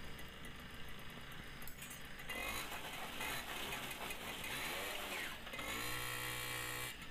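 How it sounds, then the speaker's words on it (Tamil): A TVS Super XL moped engine, just after carburetor cleaning, revs up and holds a busy, buzzing high-pitched drone at close range, with rising pitch sweeps through the middle and a steady throttle near the end. "வண்டி நல்லா ரேஸ் ஆகுது."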